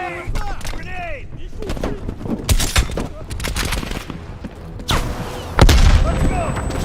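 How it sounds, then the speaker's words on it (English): In Black Ops Cold War campaign combat, a grenade blast booms heavily amid dense, continuous gunfire and loud, overlapping explosions, with shouted voices mixed into the chaos. "Grenade! Grenade!"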